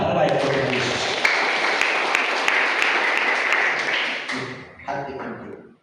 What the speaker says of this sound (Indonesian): Beri tepuk tangan terbaik untuk Yesus.